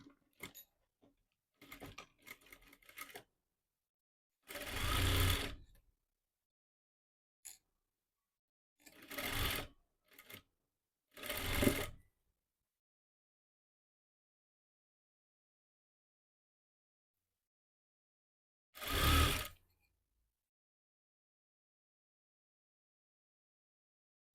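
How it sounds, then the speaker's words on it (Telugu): A sewing machine stitches Punjabi pants with pockets in several short separate bursts of fast mechanical whirring, with quiet pauses between runs and a final burst near the end. "ఈ విధంగా స్టిచ్ చేసుకోండి"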